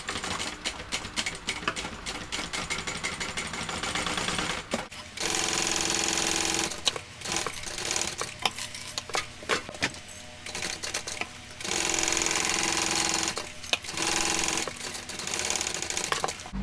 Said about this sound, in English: We're going to sew that with the seam allowance given in the pattern.